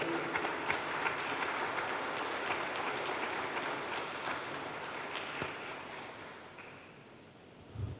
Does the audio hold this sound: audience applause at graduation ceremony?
yes